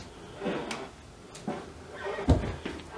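A wardrobe door in a small furnished apartment bedroom is handled, several light knocks and clicks spread across a few seconds, with one firmer thump near the end, close and fairly quiet.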